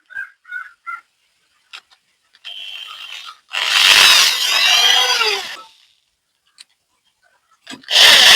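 Power drill driving self-tapping screws into wood, heard as a loud two-second burst of whining drive with a shorter run before it and another starting at the end, separated by small clicks and taps.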